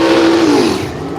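A drag racing car at Willowbank Raceway during Kenda Radial Drags radial-tyre racing gives a loud, close engine roar whose pitch drops as it passes, over a burst of broadband noise.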